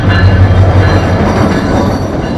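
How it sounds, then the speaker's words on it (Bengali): The Burimari Express passes through Joydebpur station without stopping, its loud, close, heavy rumble of wheels and carriages filling the moment. "খুব সম্ভবত এটা বুড়িমারি এক্সপ্রেস"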